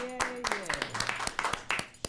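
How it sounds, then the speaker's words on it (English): A short burst of clapping mixed with cheerful voices at a public library board meeting, sharp hand claps scattered irregularly over about two seconds. "another round of applause"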